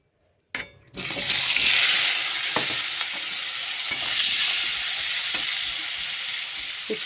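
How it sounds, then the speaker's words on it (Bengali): Bitter gourd pieces hit hot oil and burst into a loud, continuous sizzle after a sharp start, with occasional clinks of stirring, close up and without talk. "তেল এবার ভেজে নেবো উচ্ছেটা"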